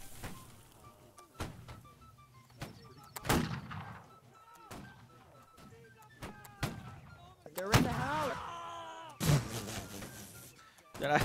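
Rifle gunfire in the musket-era multiplayer battle game Holdfast: Nations At War: a series of sharp, loud shots at irregular intervals, some booming and echoing, with a voice talking between them.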